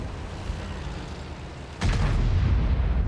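A T30 tank gun fires in World of Tanks, one loud booming shot that jumps out of steady battle ambience and keeps rumbling for over a second.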